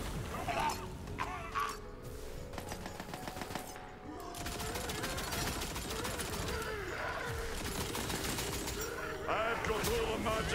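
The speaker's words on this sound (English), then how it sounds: "Shots." Rapid automatic gunfire from Tiny Tina's Wonderlands rattles on almost continuously over game music and effects, with a short lull before the shooting resumes.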